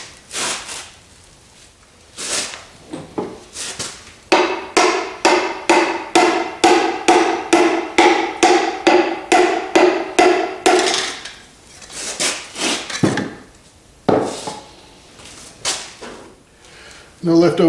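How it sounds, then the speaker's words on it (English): Rhythmic sharp taps, about a dozen in quick steady succession, as an engine piston, number 6, is driven down into its cylinder bore during a short block rebuild, with someone talking before and after. "Piston number 6 going in the hole."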